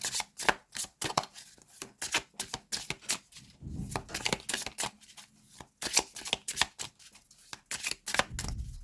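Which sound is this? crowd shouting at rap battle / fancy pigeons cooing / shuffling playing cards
shuffling playing cards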